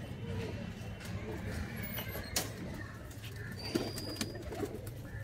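Pigeons in a loft give off a low, steady murmur of cooing, with a few sharper bird calls and bumps breaking through a busy background.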